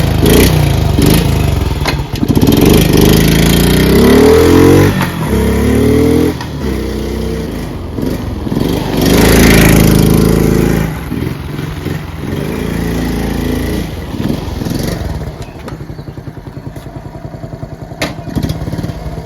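Honda Z50 J Monkeybike's 50cc engine, around fifty years old and just out of storage, running with a buzzy putter that revs up and settles, close and loud, then fading into a quieter idle.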